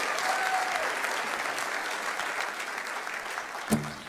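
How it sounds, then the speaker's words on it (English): An audience claps for a young singer at a youth summit ceilidh in 2013, a dense, sustained round of applause from a crowd that carries on steadily before tapering near the end. "So I think she deserves another round of applause."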